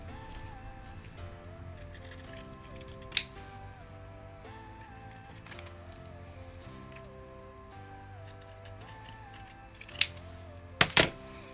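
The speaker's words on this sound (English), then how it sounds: "But I prefer using the scissors here." Scissors snip through fabric for a handmade coin purse, a steady run of quiet close-up cuts with a few sharper clicks near the end, no talking.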